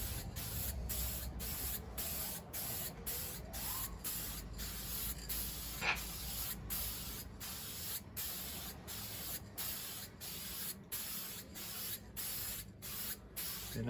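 An aerosol spray can lays down a coat of paint with a steady, loud, close hiss that runs almost unbroken, pulsing slightly as the can sweeps back and forth.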